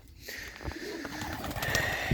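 Pigeons coo inside a village dovecote, with a soft continuous throaty cooing that is close and moderately loud, over a light background hiss.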